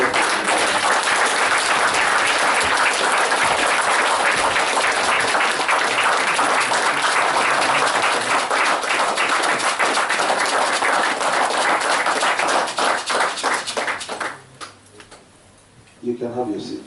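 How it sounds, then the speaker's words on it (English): Audience at a lecture on culture and heritage giving a long, loud round of applause with rhythmic clapping that carries on, then dies down briefly before a short burst returns; voices can be heard faintly underneath. "Round of applause."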